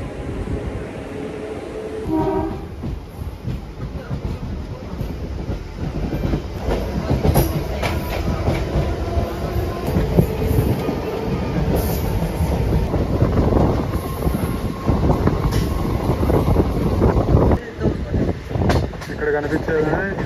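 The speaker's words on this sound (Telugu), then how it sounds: "ఇది వచ్చేసి గూడ్స్ ట్రైన్ అనమాట," An Indian Railways goods train passes close by near Tirupati. A loud, continuous rumble of wagons and rhythmic wheel clatter fills the whole stretch with no break.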